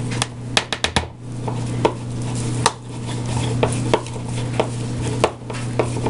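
Cheese mixture for Texas toast pizza stirred in a bowl, a cluster of sharp utensil clacks at first, then scattered softer taps and scrapes over a steady background hum, close and without speech.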